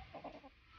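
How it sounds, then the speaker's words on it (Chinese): A plump rooster clucks a few times up close, short throaty calls bunched in under a second, heard alone with no talking. "好肥的公鸡啊！"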